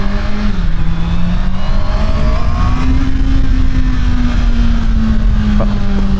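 A 2024 Honda CBR650R motorcycle on a test ride gives a loud, steady engine hum, with the pitch rising and falling slightly as the rider holds a cruising speed, plus constant wind and road roar.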